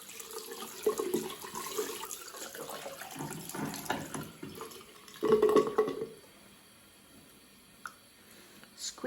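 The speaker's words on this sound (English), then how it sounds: "Rinse until the water runs clear." Tap water runs and splashes into a sink while a makeup brush is rinsed clean, in uneven bursts with a louder gush midway, then quieter trickles and drips, no talking.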